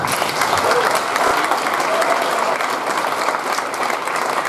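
Loud, sustained applause from a crowd including children at a youth fire brigade anniversary celebration, dense and steady for the full few seconds.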